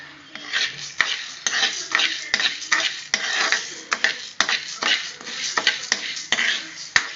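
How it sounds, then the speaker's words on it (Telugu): Moong dal tipped into a pan of roasting toor dal, dry lentils rattling and scraping as a utensil stirs them in short repeated strokes, close and crisp, with no voice. "సో ఇప్పుడు మనం దీంట్లో పెసరపప్పు యాడ్ చేసుకుందాం"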